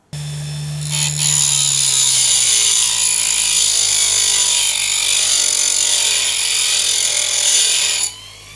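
A cheap Abest mini grinder with a flexible shaft sharpens a cheap carving chisel, giving a steady, loud high-pitched whine with a low motor hum that starts abruptly and runs unbroken for about eight seconds before cutting off.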